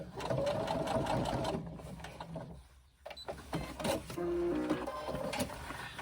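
Sewing machine stitching forward then reversing along a swim bag side seam, a steady close mechanical whirr in several bursts with a brief pause midway.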